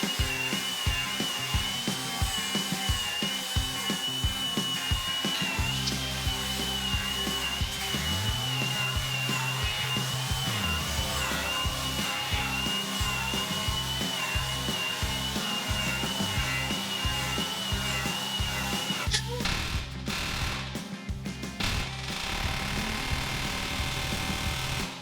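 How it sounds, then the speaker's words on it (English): A grinder cuts metal on a heavy-duty axle for a custom off-road bread van, making a loud, continuous high whine that holds steady with a few shifts in pitch. "I'm gonna just start grinding"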